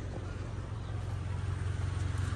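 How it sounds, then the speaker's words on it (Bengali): A 2012 Toyota Land Cruiser Prado runs at idle, a low, smooth, steady engine hum heard faintly and alone. "গাড়ির সাউন্ডটা দেখছেন, মিষ্টি সাউন্ড"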